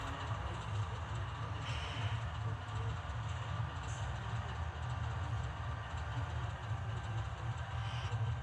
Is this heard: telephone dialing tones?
no